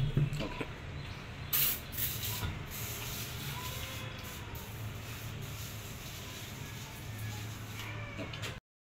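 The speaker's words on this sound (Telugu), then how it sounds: "ఇది పోర్టబుల్ స్ప్రేయర్ కాబట్టి మనం ఓన్లీ ప్రెజర్ ఒక్కటి ఇవ్వాలి." A portable pressure sprayer mists insecticide onto potted office plants, a fairly faint, steady hiss of spray running for several seconds, with a short burst and some handling knocks early on.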